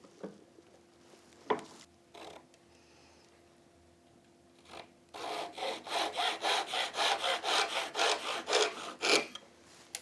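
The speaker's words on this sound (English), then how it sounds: "I'm just going to cut those with a Japanese saw, just in the vise here." A Japanese hand saw cuts a piece of wood clamped in a vise: a few sharp knocks come first, then a steady run of about a dozen rhythmic, rasping push-pull strokes, close and clear.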